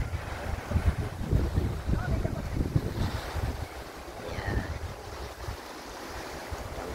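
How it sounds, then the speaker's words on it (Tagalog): Waves roll onto a resort beach near Colera outside Barcelona while strong wind buffets the microphone. The surf is loud and washing, with gusty rumble dominating throughout. "kaganda ang beach dito"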